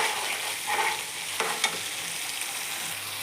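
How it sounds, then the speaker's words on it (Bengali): Green chillies sautéing in spices in a pan, a steady hiss of frying with a couple of faint spoon clinks partway through, close and continuous. "এইটার মধ্যে আমি কয়েকটা কাঁচা লঙ্কা দিয়ে দেব, দিয়ে একটু সময় এটাকে সাঁতলাবো।"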